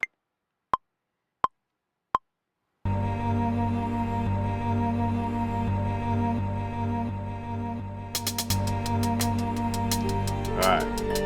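Four isolated drum hits sound alone before a sustained sampled loop from video game music begins, followed near the end by rapid 16th-note triplet drum repeats for a boom bap beat.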